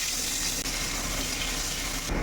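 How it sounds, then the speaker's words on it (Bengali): Finely chopped onions fry in hot oil left in the kadai after frying fish, making a steady, dense, close sizzle that rises sharply again at the very end. "এখন ওই তেলে কুচি করে কাটা পেঁয়াজগুলোকে দিই"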